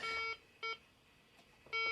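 Harmonic electronic beeps repeat in a steady pattern of short tones separated by brief silences, moderately faint against a quiet background.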